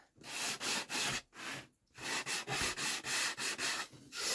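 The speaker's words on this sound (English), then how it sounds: "I think it's a low grit, so it takes more sanding to get it done" Low-grit sandpaper rubbed by hand along wooden edges to distress them, a run of close, rhythmic rasping strokes with a brief pause partway through.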